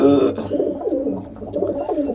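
A pigeon coos softly in low, throaty murmurs, repeating a few times close by.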